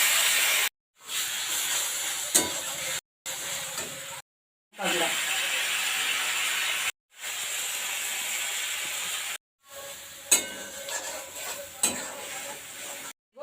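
Onion, garlic and cumin paste frying in a pan as a small amount of water goes in, giving a steady loud hiss and sizzle in several bursts broken by short gaps, with occasional clinks of a stirring spoon.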